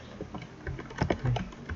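Someone types a router configuration command on a computer keyboard, producing a quick, continuous run of close, light key clicks with uneven spacing and no talking.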